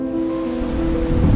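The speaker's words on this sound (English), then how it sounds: "And then rain began to fall." Rain falling as a story sound effect, a loud, dense, continuous wash of rain on a surface with a low rumble building toward the end.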